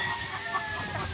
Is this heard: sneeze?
no